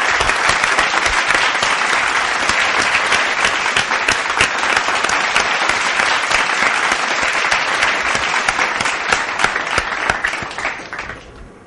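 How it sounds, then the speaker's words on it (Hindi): A studio audience at a talent-show semifinal gives loud, sustained applause for three performers, a thick wall of clapping with occasional sharper claps that holds for several seconds before fading out at the end. "जोरदार तालियां हमारे इन 3"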